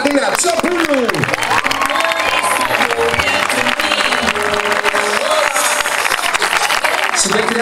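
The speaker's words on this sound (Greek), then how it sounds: "το χειροκρότημα, παρακαλώ πολύ" A crowd applauds and cheers steadily for a player at a women's final, with dense, continuous clapping and a voice carrying over the din throughout.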